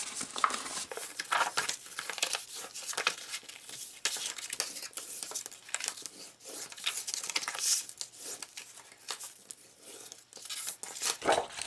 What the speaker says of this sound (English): So now we will fold all of our scores